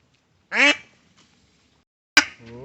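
Native domestic ducks give two separate loud, close quacks, one at about half a second and another near the end. Each is a short harmonic burst with quiet gaps between them, and no one talks.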